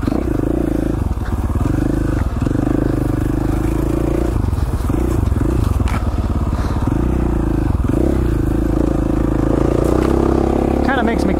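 A KTM 450XCF dirt bike rides an Idaho City enduro trail, its engine loud and close, repeatedly revving up and dropping back with rough, uneven throttle changes.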